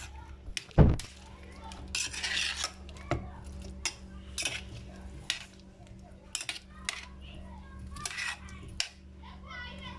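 Mushroom and potato curry being stirred in a pot, with repeated close clinks and scrapes of a spoon against metal in an irregular rhythm, and faint voices in the background.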